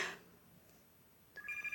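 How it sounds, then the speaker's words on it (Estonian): A telephone ringing in the video game Pizza Factory Tycoon: a faint burst at the start, then a near, tonal electronic ring returning after a quiet gap. "Ja nüüd meil hakkas helisema"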